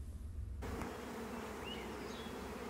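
Honeybees buzzing around an open hive of stacked deep boxes during a queen move, a steady dense drone close by with no talking.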